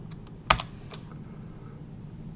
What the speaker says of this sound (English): I'm going to type in index.html.